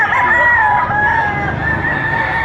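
A three-year-old long-tailed sweater rooster crows loudly and close up in one long sustained call, with faint clucking beneath and no talk.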